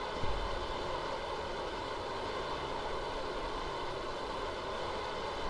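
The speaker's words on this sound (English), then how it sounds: "Lighting up the engine." A rocket engine fires in Kerbal Space Program as a lander descends toward the Mun, giving a steady, continuous roar at moderate level with no talk.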